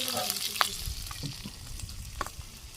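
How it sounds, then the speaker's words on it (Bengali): Fish fries in a pan with a soft, crackling sizzle and scattered sharp pops and spatters, close and fairly quiet over a couple of seconds. "মাছ ভাজি হয়ে গেছে গা"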